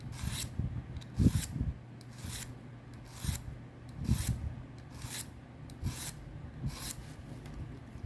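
A cheap two-thousand-won Daiso file rasping along a scissors blade in steady, gentle strokes, a rhythmic series of close, gritty scrapes roughly every second with faint metallic ringing underneath.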